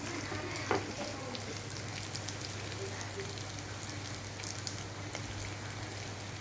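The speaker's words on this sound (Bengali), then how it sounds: "আমার সোয়াবিন বলগুলো ভাজা হয়ে গেছে" Soybean chunks frying in oil for a vegetarian curry hiss and crackle in a steady, fairly quiet sizzle, with one louder clatter early on and a low hum underneath.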